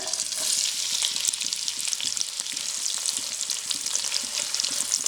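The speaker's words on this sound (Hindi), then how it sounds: "स्लाइस की हुई प्याज गरम ऑयल के अंदर" Sliced onions fry in hot cooking oil, giving a dense, continuous hissing sizzle with scattered small pops and light stirring. No talk is heard.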